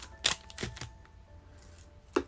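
A few sharp snips and crisp crackles close by, scissors cutting open trading card packs, with quiet rustling between the cuts.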